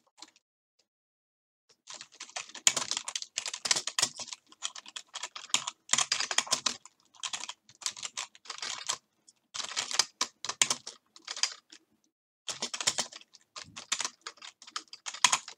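Someone types code on a computer keyboard in quick bursts of close, crisp key clicks separated by short pauses, with no talking.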